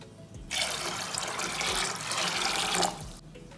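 Water runs steadily into a pot of green gram being readied for pressure cooking, a close, continuous splashing pour lasting about two and a half seconds with no talk.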